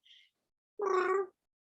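A person imitates a cat's affectionate meow with their voice: a brief faint squeak, then one clear, drawn-out meow, close and on its own.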